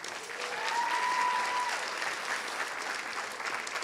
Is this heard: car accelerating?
no